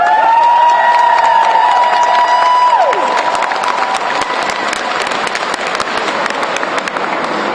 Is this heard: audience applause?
yes